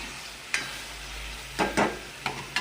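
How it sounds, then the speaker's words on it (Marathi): A spoon stirs homemade gravy for matar paneer bhaji in a pan, making a few short scraping strokes with light sizzling, sharp and close, with quiet pauses in between. "आता याच्यात आपण ही केलेलं ग्रेव्ही घालून घ्यायची, छान अशी ढवळून घ्यायची"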